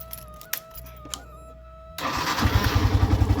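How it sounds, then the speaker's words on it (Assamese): A motorcycle that has just been serviced at home by its owner is kicked or cranked, then catches and settles into a close, loud, rhythmic idle after a couple of seconds of clicking and quiet. "আৰু এতিয়া বাইকখন ষ্টাৰ্ট দি চাওঁ।"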